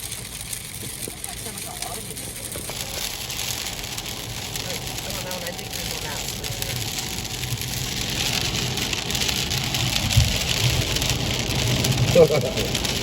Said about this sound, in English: That's very rainy.